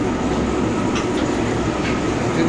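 A mustard oil expeller machine runs with a steady, dense mechanical roar and rumble, close and continuous throughout, without any pause or voice.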